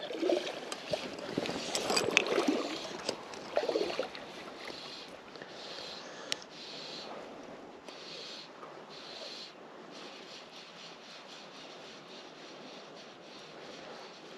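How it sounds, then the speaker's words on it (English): Water lapping softly around a small fishing boat on Loch Doon, a continuous gentle wash with brief splashy surges early on, with light wind noise throughout and no talking. "all I can hear is water."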